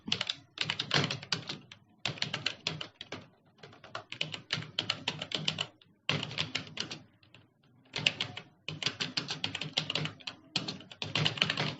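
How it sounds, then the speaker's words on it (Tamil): Rapid keyboard typing on a computer in a typing practice app, steady bursts of clacking keystrokes separated by short pauses, close and clear with no talking. "இப்போ நான் டைப் பண்ண ஸ்டார்ட் பண்ணிடுறேன்."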